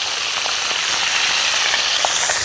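Thin slices of pork deep-frying in hot oil for a sweet-glazed pork dish, a loud, dense, continuous crackling sizzle with tiny pops scattered throughout, no voices.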